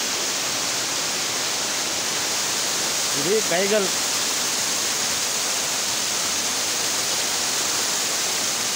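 Kaigal Falls near Palamaner, Chittoor, pours in a steady, even broadband rush that holds through the whole stretch, with a man's brief speech rising over it midway.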